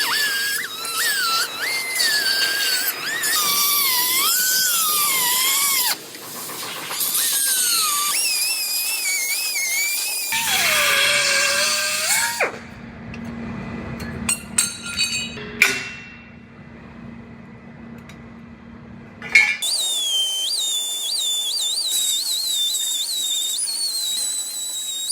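A cutoff wheel trims a cross member off a Jeep frame in a body shop, giving a high whining tone that rises and falls as the tool loads and frees up. There are brief clanks and a pause partway through.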